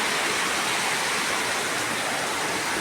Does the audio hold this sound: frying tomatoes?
no